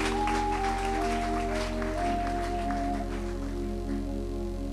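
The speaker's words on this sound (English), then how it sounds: "Clap for Jesus Christ." A church congregation clapping in worship, the claps soft and diffuse beneath sustained organ or keyboard chords and a droning hum.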